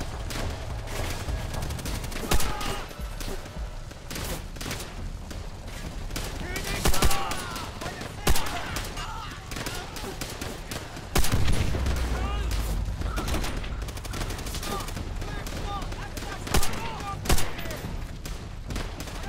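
Gunfire in Call of Duty: World at War, dense sustained automatic shooting with occasional louder bangs and booms throughout a noisy battle, steady and fairly loud.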